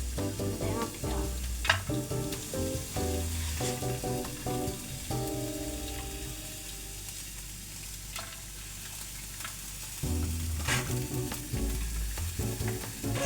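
Garlic fries in a pan with a steady crackling sizzle, overlaid by repeated clinks and scrapes of stirring that pause briefly midway before resuming.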